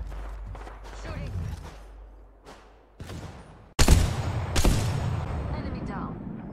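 Gunfire in the Apex Legends video game, Season 8, bursts of shots breaking out over busy game audio, growing loud and dense in the second half with sharp cracks and a sustained rattle of fire.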